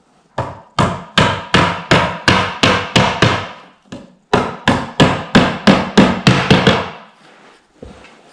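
A hammer taps dowels into a wooden Kullen chest of drawers during assembly in two quick runs of sharp, evenly spaced taps, about a dozen blows each, loud and close, with a short pause between.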